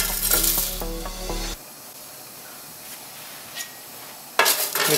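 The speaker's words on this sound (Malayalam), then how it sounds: "ഈ ഗീയിലേക്ക് നമ്മൾ ആദ്യം നമ്മുടെ ബിരിയാണിയുടെ മസാല, നമ്മൾ എടുത്തു വെച്ച ബിരിയാണിയുടെ മസാല ഇടുകയാണ്." Whole biryani spices sizzle in hot ghee while a soya chunk biryani is cooked village style, with a steady soft hiss of frying and a sharper, louder burst of sizzling near the end, with no talking.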